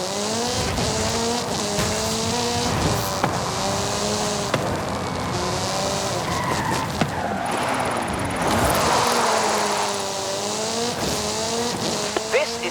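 Hoonigan Gymkhana 10 Ford Focus RS RX, a 2-litre turbocharged all-wheel-drive car, drifting in Forza Horizon 5: a loud engine repeatedly revs up and drops with shifts, with tire squeal and skidding rising through the middle.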